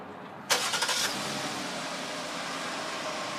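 A 2015 Jeep Cherokee with a 3.2 liter Pentastar engine cranks on remote start with a short burst of starter noise, then settles into a steady, fairly loud idle hum.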